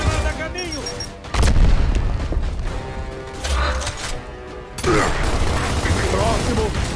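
Booming grenade blast from the Xbox One video game Gears of War remake, arriving as a loud impact followed by a second burst, mixed with game effects and a voice talking.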